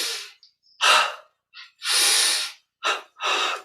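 Breathing during a guided yoga and meditation session: several deep, audible inhalations and long exhalations in an uneven rhythm, close and fairly loud, with short pauses between breaths and no talking.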